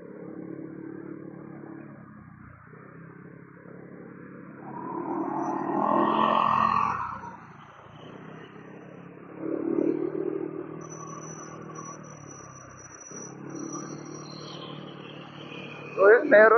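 Two motorcycles, a ride-hailing bike and a motorcycle taxi, pass along a city bike lane, their engines swelling and fading in two separate passes under faint street background noise.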